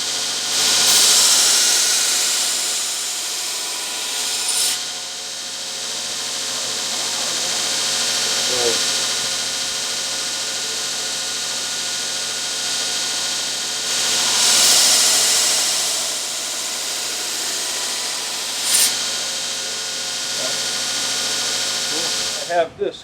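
A knife blade being ground on a belt grinder with a push block against a platen set to 90 degrees, giving a steady loud broadband whine that swells in long passes and pauses, close up under intermittent talk.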